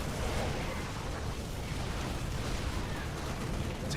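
A Zerg hatchery in StarCraft II is destroyed, giving a loud, sustained, dense rumble of explosions and bursts lasting throughout, with crackling debris and no speech.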